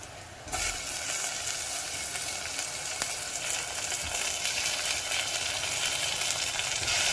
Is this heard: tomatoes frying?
yes